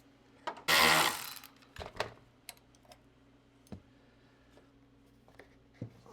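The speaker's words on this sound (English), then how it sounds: "I hate these directional friggin' open end wrenches" Ratcheting clicks from a directional open-end wrench loosening a bolt on a square-body Suburban tailgate, with a burst of rapid ratcheting near the start and scattered sharp clicks and taps afterward, close and fairly quiet.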